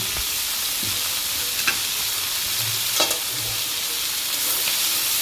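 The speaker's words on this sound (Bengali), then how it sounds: "এবার ভালো করে আমরা এটাকে নেড়ে নেবো" Red amaranth greens and fried prawns are stirred in a hot pan, a continuous close sizzle broken by a few soft scraping strokes of the spoon.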